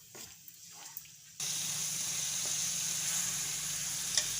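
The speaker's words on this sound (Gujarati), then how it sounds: "ટમેટાની ગ્રેવીને આપણે સરસ સડવા દઈશું એકદમ તેલ છૂટું પડે તા લગી આને સડવા દેવું" Tomato gravy sizzles steadily in hot oil in a pan while stuffed chibhada shaak is being prepared. The hiss starts abruptly after a quiet moment and then holds loud and constant, broken by a faint clink.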